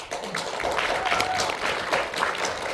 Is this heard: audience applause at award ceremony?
yes